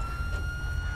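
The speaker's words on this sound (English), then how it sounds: "Who's the dummy with the siren on?" A police siren wails steadily in GTA 5 at a busy car meet, loud and continuous against a dense engine rumble for about a second.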